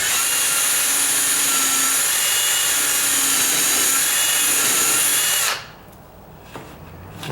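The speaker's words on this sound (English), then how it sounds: "Now see, that I can drill straight in because of the way they set up the strike plate" A power drill whines steadily and loudly at close range for about five seconds, driving screws for a deadbolt strike plate into a door frame. It then stops abruptly, leaving a quiet room.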